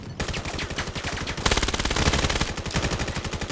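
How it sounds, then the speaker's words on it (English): Rapid automatic gunfire from the competitive shooter Vail during a playoff match, a dense, loud, continuous stream of close shots with a brief pause, then overlapping bursts, and no talk over it. "Shots fired."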